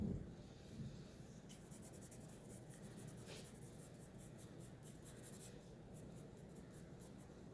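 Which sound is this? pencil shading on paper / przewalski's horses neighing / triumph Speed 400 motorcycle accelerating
pencil shading on paper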